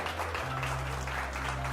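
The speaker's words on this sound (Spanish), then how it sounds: "Denle un aplauso al Rey." A church congregation claps in applause at a sermon, a steady dense wash of hand claps sustained throughout without a break.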